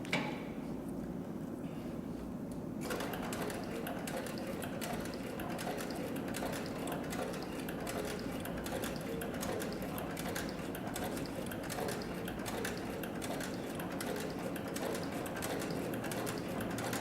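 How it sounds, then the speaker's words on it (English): A Cowboy CB3200 leather sewing machine stitches through three layers of roughly 3-ounce tooling leather, a fast steady mechanical clatter that starts after a short quieter run-up and continues evenly and close throughout. "the Cowboy CB3200 can also sew lighter weight materials, and so we're going to demonstrate that on 3 layers of approximately 3 ounce tooling leather"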